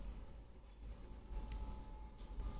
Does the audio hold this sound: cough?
no